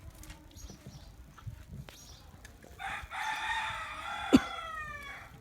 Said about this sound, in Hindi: ये ले, अभी मुर्गे ने भी पीछे से आवाज़ें निकालना शुरू कर दी